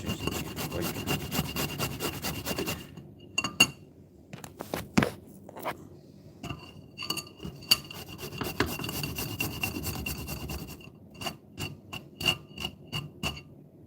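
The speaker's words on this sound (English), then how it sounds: "but I'm choosing to use a grater." Food rubbed against a hand grater in a home kitchen, a run of rough rasping strokes close by, broken by short pauses and a few sharp taps near the end.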